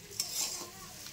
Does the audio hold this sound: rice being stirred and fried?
yes